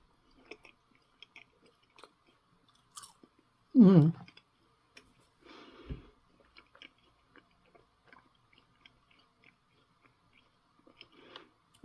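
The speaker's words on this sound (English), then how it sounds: "Once you start chewing it, it's kind of spongy." Someone chews a nougat bar from a French 24-hour ration: one loud, close bite and chew, then a few softer mouth sounds scattered through near-silence.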